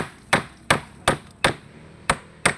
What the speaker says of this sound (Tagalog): nagchachap ng manok na may martilyo?